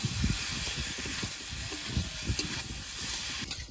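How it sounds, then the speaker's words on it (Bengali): Potatoes frying in a pan with spices and turmeric for a village-style home curry give a dense, steady hiss and sizzle, with soft scraping knocks of stirring underneath. "এবার ভালো করে ভেজে নেবো মশলা দিয়ে।"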